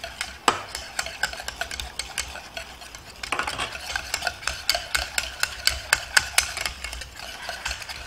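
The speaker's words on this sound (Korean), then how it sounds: "그래서 계속 움직이면서 섞어주셔야 돼요" Hollandaise sauce whisked continuously by hand, with a rapid stream of light metallic clinks and scrapes of the whisk against the bowl that runs steadily throughout, close and moderately loud with no talking.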